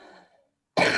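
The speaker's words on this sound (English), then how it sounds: "I have had a cough." A single sharp cough bursts in near the end, loud and close after a stretch of faint background murmur that fades to near silence.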